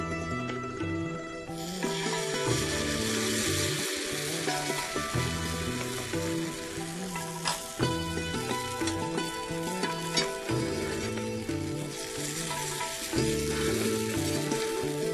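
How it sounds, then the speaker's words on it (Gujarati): Sweet pudla batter made with jaggery and wheat flour cooking in ghee on a hot iron griddle, a loud continuous sizzle with crackling bursts and occasional scraping, steady throughout. "ઘી ચોપડ્યા પછી લોઢી ગરમ થઈ જાય પછી ખીરું નાખવાનું છે."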